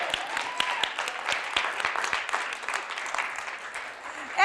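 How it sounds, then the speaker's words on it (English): An audience at Wheaton College claps in scattered, moderate applause, individual claps audible at a distance with a low murmur of voices underneath, fading before a louder sound at the end. "Okay, I need a little applause."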